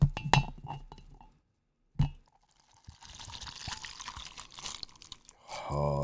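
Vodka and cranberry are poured into a glass, with clinks and drips at the start, a brief pause, and then a steady trickle of liquid that grows fuller near the end.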